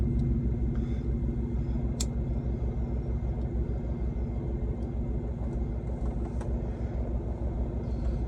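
Truck cruising at speed, a steady loud low rumble of engine and road noise filling the whole stretch with no pauses.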